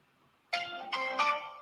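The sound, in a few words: telephone call being dialed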